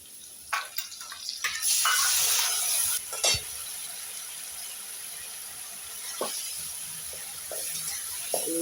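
Cumin, ginger, chili and turmeric hit hot oil with fried potatoes, giving a steady sizzle with a louder burst early on and occasional clinks of stirring, no voices.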